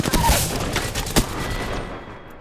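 Video game gunfire rattles in quick bursts with a couple of heavier impacts, loud and close, then trails off into quieter ambience near the end.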